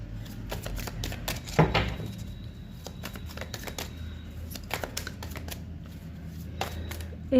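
A deck of tarot cards shuffled in a rapid run of riffling flicks and soft slaps, close and steady, with a louder handling thump near the start and another at the end.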